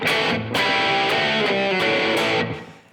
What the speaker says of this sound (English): the trick to that sound for me is actually he's upstroking those power chords